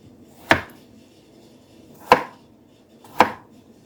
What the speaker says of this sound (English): So I have 1 English cucumber that I'm just going to cut into 4 and just make little strips